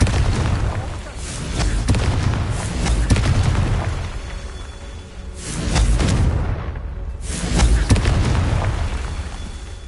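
Fire spell explosions in the video game Hogwarts Legacy, several loud booming blasts swelling and fading in waves over a constant rumbling game backdrop, with no talk.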